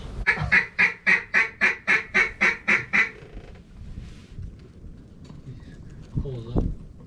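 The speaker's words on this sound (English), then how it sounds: "There's some low geese." Low-flying geese give a rapid run of about ten loud honks over a duck hunting pit in Northwest Indiana, followed by quieter rustling and a brief low voice near the end.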